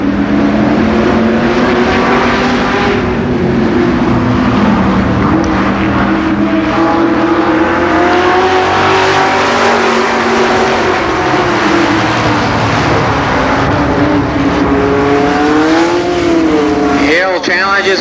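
Stock cars race through the first lap at Columbus Motor Speedway in 1990, their engines making a loud, sustained roar with shifting pitch as the pack passes close by. Race commentary runs continuously over the engine noise.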